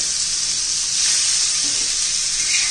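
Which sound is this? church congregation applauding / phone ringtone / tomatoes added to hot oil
tomatoes added to hot oil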